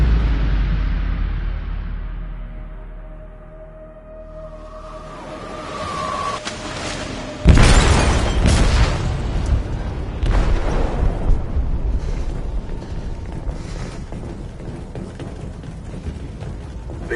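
Explosive detonated in a ship's hold in the Detroit: Become Human video game, a sudden heavy boom midway after a low rumbling buildup, followed by sustained loud roaring debris and rumble.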